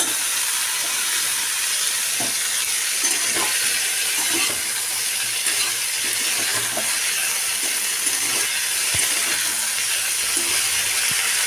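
Cauliflower and potato pieces fry in a pan, a dense steady hiss of sizzling oil with faint irregular stirring scrapes and clicks underneath, no one speaking.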